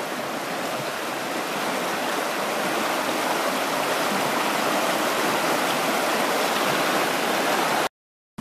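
Spring-fed stream on a Ha Ha Tonka valley hike, flowing into Lake of the Ozarks, gives a loud, steady, broadband rush of running water. It continues unbroken and close by with no talk, then cuts off abruptly near the end.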